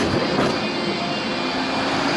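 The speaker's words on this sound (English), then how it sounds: "Lots of trams going past us" A Blackpool tram passes nearby at night, a steady rolling rumble and hiss of wheels on rails that stays even for the whole stretch.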